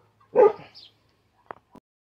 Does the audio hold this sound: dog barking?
yes